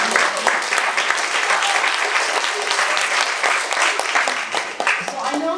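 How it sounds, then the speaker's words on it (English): Loud, dense audience applause for Steve Wozniak at a fireside chat event, many hands clapping close and steady throughout with a few voices mixed into the crowd noise. "Let's give Steve a clap."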